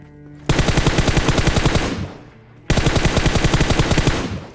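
Automatic gunfire in PUBG Mobile: two loud, rapid machine-gun bursts, the first about a second and a half long, then a short pause before a second burst of similar length, close and dominant.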